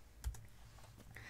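A few quiet keystrokes on a computer keyboard as a date is typed into a spreadsheet: soft, separate clicks spaced unevenly over a low room hiss.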